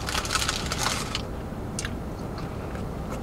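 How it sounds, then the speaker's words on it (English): Someone bites into a Taco Bell grilled cheese burrito filled with steak, rice and cheese, giving a close burst of crunchy chewing for about a second, then a softer crunch shortly after, with no talking. "What's that crunch in there?"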